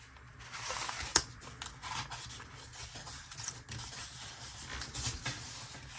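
Scissors cutting paper down to size, soft uneven snips and rustling scrapes with one sharper cut near the start, close but quiet.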